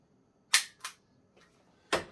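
Umarex Heckler & Koch USP air pistol giving sharp, snappy clicks close by: two quick shots, then a faint tick and one more clear crack, with silence between them.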